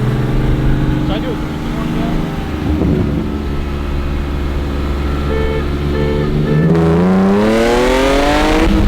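A BMW 128i with a manual gearbox accelerating in first gear, a loud steady engine drone inside the cabin that rises sharply in pitch near the end as the revs climb, with a voice speaking over it.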